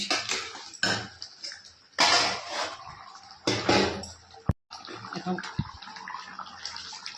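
Water is poured into a cooking pot in a home kitchen in several separate splashing bursts, close and fairly loud, with brief pauses and a sharp knock between pours.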